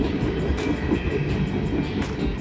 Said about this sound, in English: We get to see the train passing by.